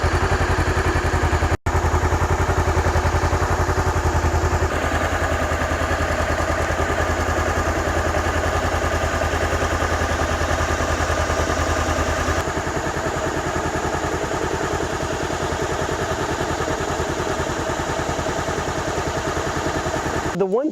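A 2014 Honda CB500X with a fuel-injected two-cylinder engine idles steadily and quietly up close, a smooth even pulsing hum that holds unchanged for about twenty seconds with no one talking.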